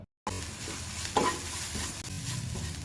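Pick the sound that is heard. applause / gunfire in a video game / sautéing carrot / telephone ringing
sautéing carrot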